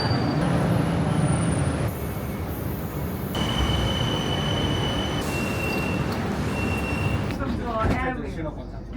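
Bangkok BTS Skytrain running on its elevated line, with a continuous loud rumble of wheels on rail, high whining tones and a brief squeal near the end, while a voice talks over it.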